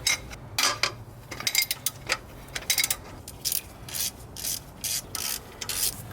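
A wrench works the header bolts on a 2015-2018 Subaru WRX with quick, repeated ratcheting and scraping strokes, close and fairly loud, with no voices.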